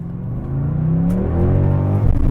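Porsche Panamera engine revving, a steady, loud engine note that climbs gradually over about two seconds and stays close with no speech over it.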